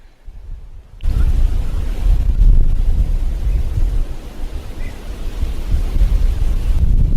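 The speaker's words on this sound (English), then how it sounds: "Yeah, the weather today is definitely windy. The breeze is really something." Strong wind roars and buffets the microphone after a quiet first second, a steady low rumble with gusts continuing throughout.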